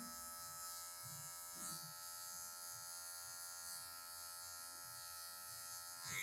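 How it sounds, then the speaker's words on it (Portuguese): Electric hair clipper trimming details of a taper fade on long hair, a steady close buzzing hum running throughout with faint small rustles of cutting, quiet overall and without talk. "Só uns detalhezinhos aqui eu vou tirar com a zero alta, com a ponta da máquina novamente"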